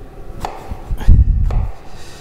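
A kitchen knife chops an eggplant into small pieces on a cutting board, giving several close, crisp strikes in an uneven rhythm with a denser flurry in the middle.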